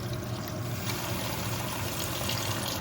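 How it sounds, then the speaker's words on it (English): Water pours into a cooking pot of boiling chicken for homemade chicken rice, a continuous close trickle and splash with a steady hissy wash throughout and no speech. "I'm just gonna add a little more water here."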